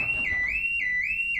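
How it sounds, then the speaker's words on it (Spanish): An electronic motion sensor alarm sounds at an abandoned farmhouse, a shrill warbling tone rising and falling in a quick repeating cycle, fairly loud and alone. "ha sonado el sensor de movimiento"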